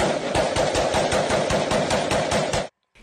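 Rapid automatic gunfire rattles in the streets of Beirut, a dense, even burst of shots lasting several seconds before cutting off abruptly, loud and harsh.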